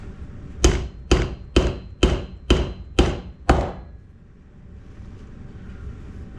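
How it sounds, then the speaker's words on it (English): A soft-faced hammer gently taps a bearing part into place during a B2 edger rebuild, giving seven evenly spaced, fairly close thuds in a steady rhythm, followed by quiet room noise. "We can now gently tap this in place."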